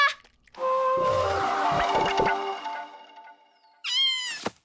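A cartoon cat lets out a long, wavering meow that fades away. After a short pause, a second sharp, rising meow cuts in.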